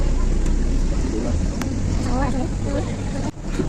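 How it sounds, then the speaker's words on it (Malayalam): Boat cruising on Dubai Creek, a steady low engine drone and wind-buffeted water rush running throughout, with a person talking over it. "ഗൈസ് അപ്പം ബോട്ട് പോയിക്കൊണ്ടിരിക്കുകയാണ്"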